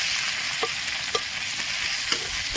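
Onions stirred as they fry in a pan, a soft continuous sizzle broken by a few light scrapes of the spoon against the pan, close and fairly quiet, with no voices.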